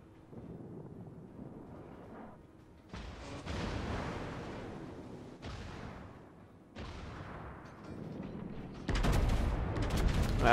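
Battleship guns fire in World of Warships, aboard the Arizona: heavy booming salvos arrive in separate bursts, each a loud blast followed by a rumbling decay, the last the loudest and fullest.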